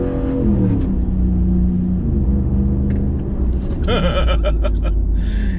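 A Ram Rebel pickup truck rounds a curve with a steady, loud engine and road rumble throughout, tire noise blending in and a brief higher whine near the end.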